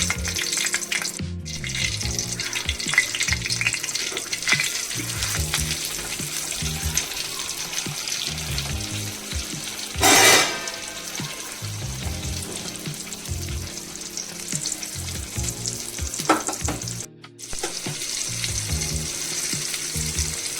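Stuffed bangda mackerel prepared Malvani style fries in hot oil in a pan, a loud continuous sizzle running for about twenty seconds with occasional clatter and a short watery burst midway, no voices.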